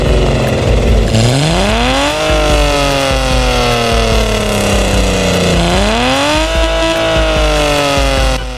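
A car's stock engine in the Car Parking Multiplayer video game revs loudly and close, rising in pitch twice in long sweeping climbs before settling, with no talk over it.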